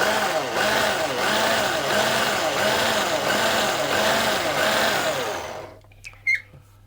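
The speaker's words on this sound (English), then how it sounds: "I'm just going to pulse them just a little bit" Flour, corn flour and icing sugar whir in a food processor with a steady, rhythmic motor drone for several seconds before it stops, followed by a few faint clicks and knocks, close and fairly loud.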